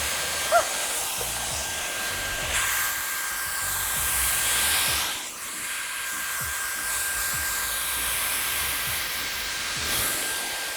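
A Dyson hair styler blowing air while styling fine hair, a continuous airy hiss with a thin high whine, swelling and dipping slightly as it moves through the hair.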